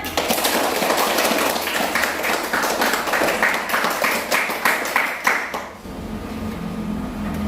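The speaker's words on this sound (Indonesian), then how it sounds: "kalau masih semangat silahkan tepuk tangan" Classroom audience clapping on request during a lesson, a dense burst of hand claps that grows more rhythmic before stopping abruptly, followed by quiet room tone.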